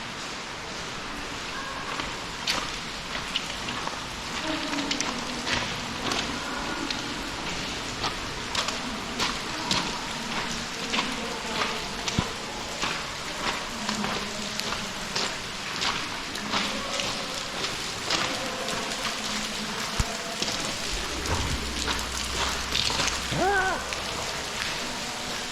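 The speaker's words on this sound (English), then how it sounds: "Getting all rained on, huh, Fina Bear?" Rain falls steadily for the whole stretch, a dense patter of drops striking surfaces with scattered louder splats and a faint low rumble late on.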